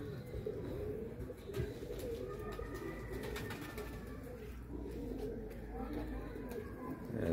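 Pigeons coo softly and repeatedly over a steady background rumble, with faint voices in the distance; these are flying pigeons kept by a pigeon fancier.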